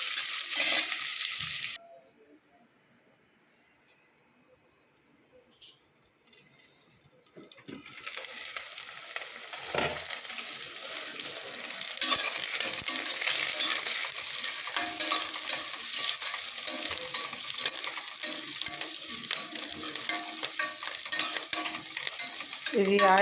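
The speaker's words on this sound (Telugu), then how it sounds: "ఇది ఆయిల్ వేసి వండుతున్నాను." Onions and green chillies frying in oil in a cookware pan, a soft hiss that drops to near silence briefly, then a steady, continuous sizzle with faint stirring scrapes throughout.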